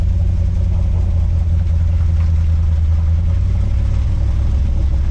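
A V8-swapped Toyota Hilux engine runs loud and close with a deep, steady rumble and a slightly rough, breaking-up tone, holding roughly constant revs throughout without any talk over it.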